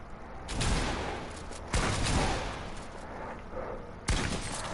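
Gunfire in a video game lands headshots: a few loud, sharp shots with short rumbling tails, spaced unevenly across a few seconds with no voices.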